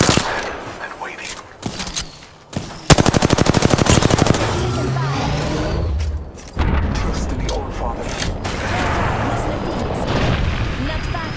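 Rapid automatic gunfire rattles in long bursts during an Apex Legends match, loud and close, broken by short gaps, booms and mechanical clatter, with voices talking over the shooting.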